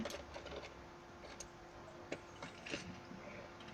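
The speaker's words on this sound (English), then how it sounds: "I could use my socket and drive the bolt in on the one side first" A socket tool drives a bolt in with a faint, irregular run of small ticking clicks, quiet and close.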